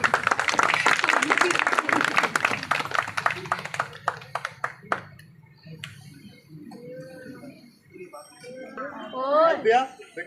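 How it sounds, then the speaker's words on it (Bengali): Loud applause breaks out among the audience at a karate medal award ceremony, then dies down within about five seconds, with talking and voices carrying on afterward. "জোরে হাততালি"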